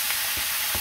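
Taro (kochu) greens hitting a hot frying pan, a loud steady sizzle with a few soft stirring thumps, close and alone.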